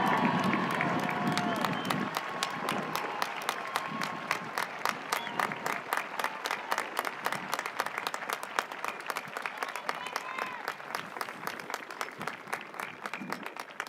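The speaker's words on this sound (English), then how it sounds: "Can we have a round of applause for them?" A large audience at the West Ottawa High School Class of 2025 graduation applauds graduates enlisting in the military. Sustained clapping is mixed with crowd noise and some cheering, and a few voices sound early on.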